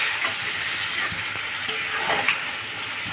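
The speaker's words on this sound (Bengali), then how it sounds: "তারপর অ্যাড করে দিলাম ঝোল" Broth poured into a pan of mola fish chorchori, a Bangladeshi-style small-fish curry, sets off a loud, dense, continuous sizzle and bubbling, heard up close with no one speaking.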